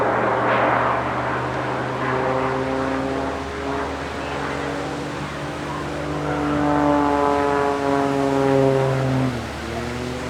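A Pitts aerobatic jet-augmented biplane at a seaside airshow, its engine droning steadily from a distance with slowly shifting pitch as it eases off and repositions between maneuvers.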